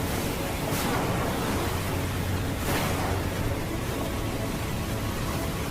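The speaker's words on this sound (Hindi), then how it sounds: "अचानक ऊंची ऊंची लहरें उठने लगी।" Ocean waves rising as a sound effect, with steady broadband surf and wind-like rush filling the whole stretch and two brief swells of spray, loud and continuous with no voices.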